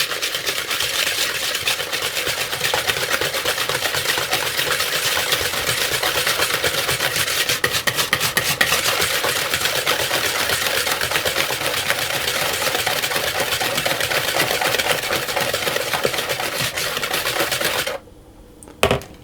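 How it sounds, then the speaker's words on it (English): Sugar and egg yolks whisked in a bowl, a fast steady rhythmic clatter of the whisk against the bowl, close and loud, carrying on without pause until it stops near the end. "I'm going to put my sugar and my egg yolks into a bowl, and I'm going to whisk those until they're fully combined."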